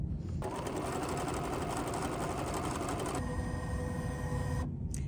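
An embroidery machine runs a tack-down stitch on a stitch-and-flip purple block, a steady dense mechanical whir with rapid needle chatter that changes pitch partway through before stopping near the end.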